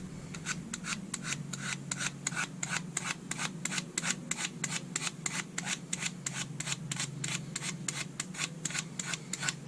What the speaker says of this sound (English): So what I'm going to do is just do a bit more scraping.